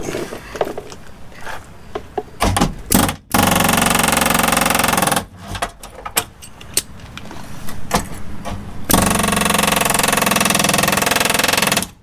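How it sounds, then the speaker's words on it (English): Loud bursts of harsh metallic hammering and grinding as a chisel knocks off a spot-welded metal panel on a Dodge Dakota cab corner and rocker, several long sustained stretches broken by brief pauses, close by with no talking. "now all I got to do is run that chisel down through there and knock this off"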